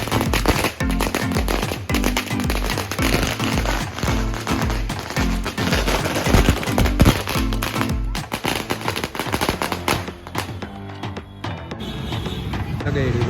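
A string of firecrackers bursts in a rapid, loud, crackling run at a home welcome for a newborn baby girl, then thins into scattered pops near the end.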